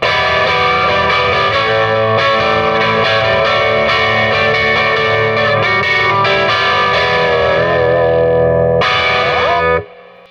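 An electric Jaguar guitar fitted with Jazzmaster pickups plays through its out-of-phase switch setting, giving a thin, nasal tone under heavy effects with distortion and chorus. The strummed chords are loud and sustained for about ten seconds, then cut off abruptly.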